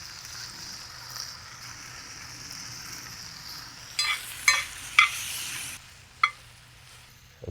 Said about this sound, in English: the cooking time on this is super, super quick once the shrimp hits the pan